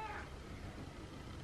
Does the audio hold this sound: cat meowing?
yes